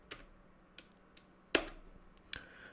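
A few isolated keystrokes tap on a computer keyboard on Windows, faint and close, with one sharper, louder clack near the middle like the Enter key.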